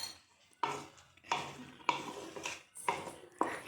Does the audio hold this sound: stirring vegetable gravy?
yes